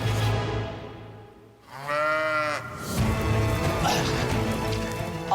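Sheep bleating loudly amid scuffling as several people corner and catch one in a narrow pen, with one long wavering bleat standing out in the middle and busy animal and handling noise around it.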